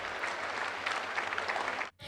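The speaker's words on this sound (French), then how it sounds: "Applaudissons merveilleusement pour notre Seigneur qui opère des miracles." A church congregation applauding, a dense steady clatter of many hands clapping together that stops abruptly near the end.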